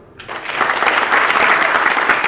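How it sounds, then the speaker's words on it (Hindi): A studio audience bursts into loud, sustained applause for Anand Kumar, the clapping rising quickly after a brief silence and holding dense and even to the end. "जोरदार तालियां आनंद कुमार जी के लिए"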